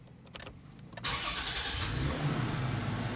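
A 3rd-generation Toyota Tacoma truck with a freshly installed Bilstein 5100 and 6112 suspension and leaf kit cranks and starts, its engine catching abruptly and settling into a steady, close rumble as it pulls away.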